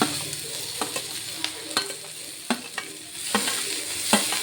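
Tomatoes fry in a pan for paneer butter masala, a soft continuous sizzle broken by sharp clacks of a spoon stirring against the pan at irregular intervals.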